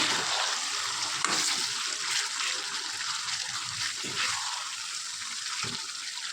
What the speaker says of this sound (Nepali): अब चाहिँ फेरि म मजाले यसलाई चाहिँ चलाउने छु।